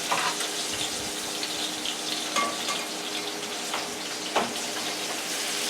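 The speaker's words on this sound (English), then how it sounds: "Our home fries have been cooking for about 20 minutes with a cover on it." Home fries frying for about twenty minutes in a covered pan give a steady, close crackling sizzle that holds even throughout, with a few faint clinks and small splashes of water in the background.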